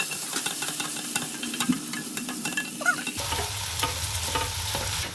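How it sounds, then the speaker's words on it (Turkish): Rice sizzles and fries in a hot pot for a porcini and button mushroom risotto, with steady stirring scrapes and a louder burst of sizzling partway through, heard alone without talk. "Diğer tenceremize geri kalan pirinçlerimizi atacağım."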